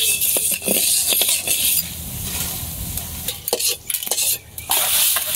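Rice roasts in a hot pan while a utensil stirs and scrapes it in quick bursts, with a faint sizzle and metallic clinks close up and no talking.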